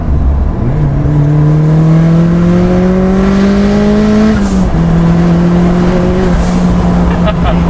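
A turbocharged Mazda MX-5 Miata, built in a shed to about 350 bhp, accelerates hard in third gear with a loud, steady, rising engine drone heard from inside the car. The note dips briefly before climbing again.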